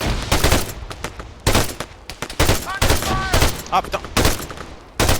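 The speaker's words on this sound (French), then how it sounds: "Machine gun. 75 meters left." Rapid bursts of machine gun fire in the video game Arma 3 crack out in repeated loud volleys with short gaps, while a man exclaims in French between the shots.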